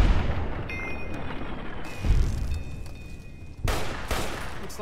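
Gunfire from the player's weapon in Fallout New Vegas as a giant ant is shot, a dense run of overlapping bursts with a heavy blast near the middle and another burst near the end.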